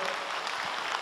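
Audience applause at a live comedy stage show, a steady broad wash of clapping filling the whole moment without pause.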